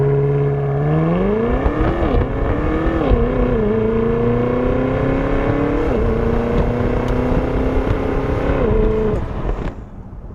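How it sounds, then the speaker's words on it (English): BMW XM accelerating hard under launch control, engine tone climbing steeply at launch, then rising through several gear shifts with short dips before easing off near the end. "let's try launch control"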